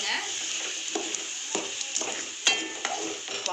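Crab curry cooks on low heat in a pan, a constant bright sizzle and bubble with repeated soft stirring scrapes and a few light clinks of a spoon against the pan.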